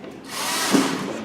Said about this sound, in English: put a screw in,